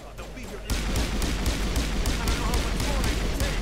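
Pistol fire from the video game Mass Effect, a rapid run of sharp shots starting abruptly and repeating steadily for several seconds amid dense combat noise.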